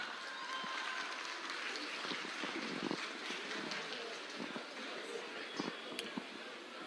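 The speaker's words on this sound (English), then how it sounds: "Give a big hand clap." A crowd claps in sustained applause, a dense patter of hands with scattered sharper claps, heard from within a large outdoor gathering.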